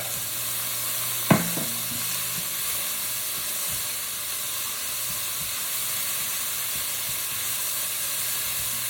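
Orange chicken is stir-fried in a hot pan, with a steady sizzle and hiss throughout and a single sharp clatter of the utensil near the start.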